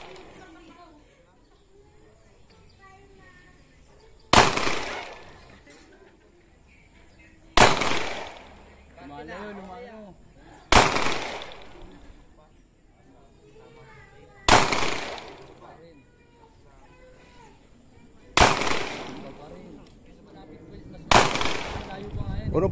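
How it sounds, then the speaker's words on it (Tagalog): Six loud, close gunshots ring out at a shooting practice range, spaced several seconds apart with an even rhythm, each sharp crack decaying quickly, while people chat quietly in the gaps. "Unang putok pa ni Tintin yan?"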